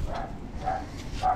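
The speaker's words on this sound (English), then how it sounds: "I can hear her little puppy already." Small puppy barking in three short, high yips spaced about half a second apart, heard at a distance against a steady low rumble.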